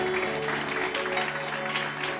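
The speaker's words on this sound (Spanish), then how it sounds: "Le damos un fuerte aplauso al Señor." Congregation applauding at a Sunday church service, a steady dense wash of clapping with a sustained tonal hum beneath, filling the whole short stretch without pause.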